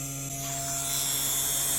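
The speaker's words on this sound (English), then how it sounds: "Turn on the spindle. The spindle is on." A CNC guitar inlay machine's spindle spins up, giving a steady, close electric whine with a constant buzzing hum that holds level throughout, with no talking.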